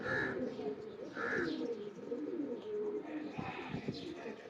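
Rampuri teddy king pigeons from a line-bred pair cooing in repeated soft, low throaty bursts close by, alongside a voice talking.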